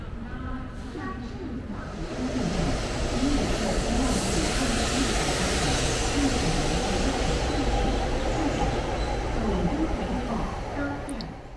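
A THSR 700T high speed train rolls into a station platform, a broad rising rush and rumble with hiss that swells and holds steady, moderately near, with no talk over it.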